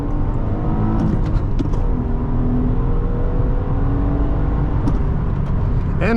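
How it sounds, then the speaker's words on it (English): A 2005 Acura TL 3.2 with a six-speed manual pulls hard in first gear, its engine note a loud continuous drone rising steadily in pitch from inside the cabin. "But let's put her into 1st gear. Give her some gas."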